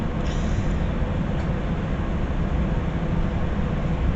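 A GWR Greenford Shuttle train pulling into Greenford station rumbles steadily from inside the carriage, a dense, continuous low roar of wheels and motor with no voices.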